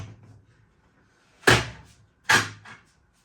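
Beer keg of Stella Artois Unfiltered pushed down into a Philips Perfect Draft home draught machine, giving two sharp, close thuds about a second apart after a faint rustle, with no talking.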